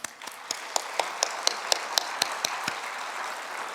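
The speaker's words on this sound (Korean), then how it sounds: "하나님께 영광의 박수 올려드리겠습니다" Church congregation applauding during a Sunday service, a sparse, thin patter of separate claps with a few sharper individual hand strikes standing out, fairly soft and spread through the room.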